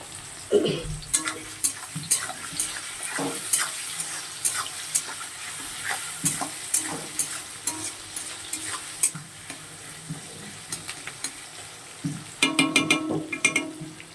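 Capsicum fritters made with finely chopped capsicum and onion sizzle in a pan, a loud steady fry broken by repeated stirring and scraping clatter, with a busier burst of clinks near the end.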